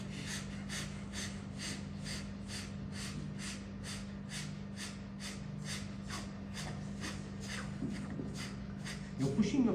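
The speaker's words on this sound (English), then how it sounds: "So don't focus on breathing in, but just breathing out." Kapalbhati yoga breathing: short forceful exhalations through the nose, repeated in a fast, even rhythm about twice per second, close and clear, alone until a brief rustle at the end.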